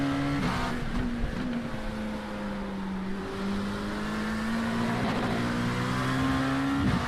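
Race car engine from an iRacing IMSA sprint, a steady droning note that holds at a sustained pitch with small dips and climbs in revs, with no talk over it.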